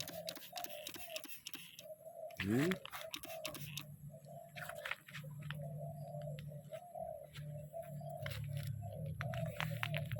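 A large dove coos in steady repeated phrases near a wooden bird trap box, soft and fairly close, with light clicks and knocks between the calls.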